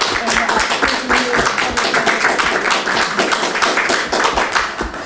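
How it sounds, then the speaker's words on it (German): An audience in a lecture hall breaks into lively applause, with distinct, fairly close hand claps piling into a brisk, uneven rhythm that holds steady for several seconds. "Applaus"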